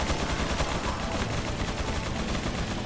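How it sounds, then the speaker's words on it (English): Submachine gun fire in Resident Evil 4, a continuous rapid stream of loud shots filling the whole moment with no talk. "I don't even know why I even use a submachine gun here."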